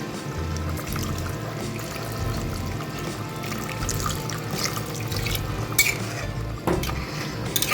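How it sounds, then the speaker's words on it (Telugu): Water poured into a pot of bitter gourd and mutton curry, a steady close splashing stream with a few clinks of utensils against the pot near the end. "అలాగే కొద్దిగా వాటర్ కూడా వేద్దాము దీంట్లో"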